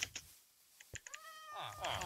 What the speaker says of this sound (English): Okay, I'll name Tom this cat